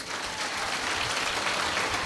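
Devotees at a Hindu spiritual discourse gathering clap together in a continuous, dense burst of applause that stays even for its short length, with no speech over it.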